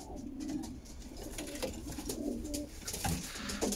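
Young pigeons cooing: soft, throaty, repeated low rolling calls, close by over a faint background hum.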